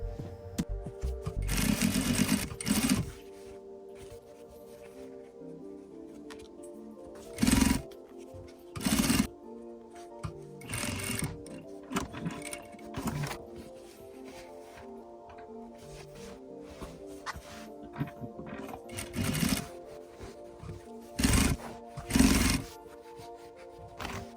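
Sewing machine stitching a throw pillow with self welt, running in steady motor bursts with short pauses between seams, moderately close and alone.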